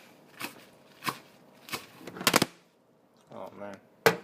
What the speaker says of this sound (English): mince the leaves.